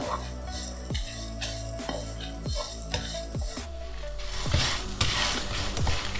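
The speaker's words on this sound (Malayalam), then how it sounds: "എന്നിട്ട് അത് നല്ലവണ്ണം മൂക്കുന്നവരെ ഫ്രൈ ചെയ്തെടുക്കണം" Spices for a roasted crab curry masala sizzle and fry in a pan, while a spoon scrapes and stirs them in a steady rhythm of knocks against the metal. The sound is close and moderately loud, and no one speaks.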